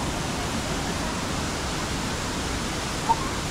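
Steady, loud roar of a waterfall with rushing water at Vera Falls, a broad, unbroken wash of noise close by that barely changes.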